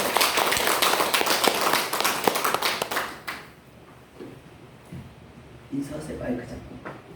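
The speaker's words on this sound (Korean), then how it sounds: "박수 한번 쳐주세요" A church congregation at a Sunday morning service claps loudly and densely for about three seconds, then the applause stops abruptly, leaving room noise, light taps and a voice speaking.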